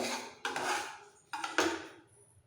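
Roasted semolina scraped and scooped from a kadai with a metal spoon, three distinct clattering scrapes of utensil on pan, close and fairly quiet, with no talking.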